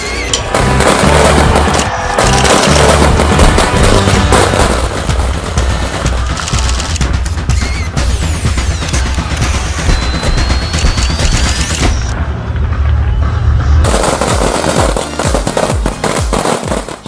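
Fireworks launched from a building in Tokyo for the Olympics explode loud and relentless, with dense crackling bursts and booming reports in a continuous barrage.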